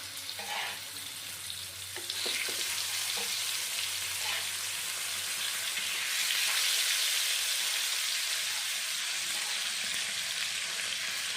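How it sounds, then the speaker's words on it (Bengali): Steady, hissing sizzle of koi fish frying in mustard oil in a wok fills the scene, with a few utensil clinks early on and the frying growing louder midway. "এখন আমি মাছগুলো ভেজে নেব"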